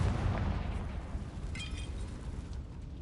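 A Confringo blasting spell explodes in Hogwarts Legacy on PS4, a heavy low rumbling boom that rolls on and slowly fades, with a brief crackling burst partway through.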